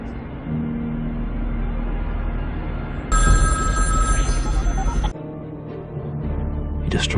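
A telephone bell rings loudly for about two seconds over a steady low rumble, then stops, leaving the background drone.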